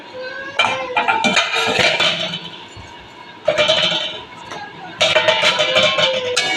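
Pabda fish pieces dropped one at a time into boiling gravy in a pan, with loud sizzling and spattering bursts layered over clinking of a utensil against the pan.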